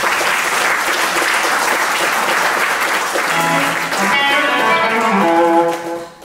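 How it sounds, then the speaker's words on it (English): A loud audience at a guitar gathering applauds in a sustained wash of clapping for several seconds, with a voice starting over it near the end before the applause fades out. "if you'd give John a round of applause for"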